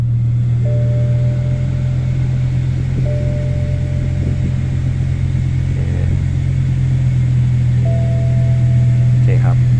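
A BMW M5 E60 with a 500-horsepower V10 sits idling, a steady low engine hum that stays loud and constant with faint higher tones, heard close from inside the car.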